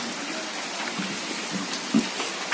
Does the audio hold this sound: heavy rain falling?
yes